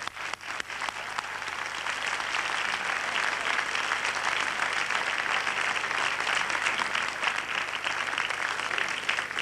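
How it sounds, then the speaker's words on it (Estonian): A large audience applauds at the 1994 Estonian Eurolaul song contest, a steady, dense wash of clapping that holds at full strength for the whole stretch without any speech. "Aplaus veel."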